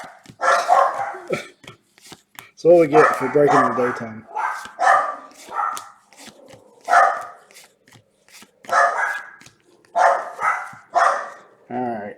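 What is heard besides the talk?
small dogs barking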